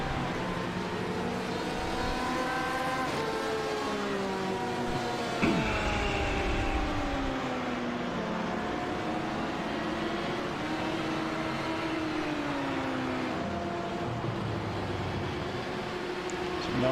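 Simulated LMP1 prototype race cars lapping Circuit de la Sarthe at Le Mans in the iRacing sim, a continuous engine drone with rising and falling pitch sweeps as cars pass and shift, steady and fairly loud throughout.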